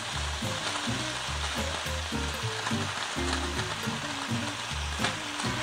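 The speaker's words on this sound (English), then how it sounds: "So we're going to cook these for a further few minutes, just until all the mushrooms have softened up nicely." Sliced mushrooms fry with bacon in a pan, giving a steady, close sizzle and crackle with soft stirring scrapes throughout, no voices.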